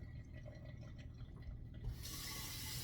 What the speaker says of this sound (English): So rinse the rice.